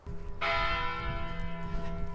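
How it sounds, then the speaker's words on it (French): A single church bell strikes once, its bright metallic tone ringing out and slowly decaying over a low background rumble. "Ah, ça c'est la cloche."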